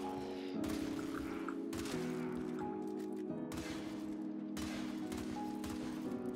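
Zylok pistol firing in Warframe against Infested enemies, a few distinct shots ringing out over a steady game background drone.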